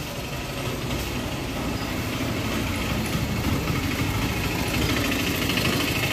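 A VST power tiller engine runs steadily after starting, with a loud, continuous rattling drone and no pauses.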